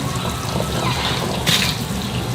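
Tap water runs steadily into a sink while warming up, a continuous close rushing stream with one brief louder splash partway through.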